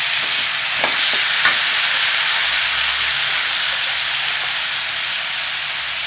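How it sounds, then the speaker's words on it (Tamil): Tomato sautéing with onions in a pan for a Tamil pirandai kuzhambu, a steady close broadband sizzle with a few soft stirring scrapes near the start, and no voices. "அதையும் போட்டு இதோட வதக்கிக்கலாம்."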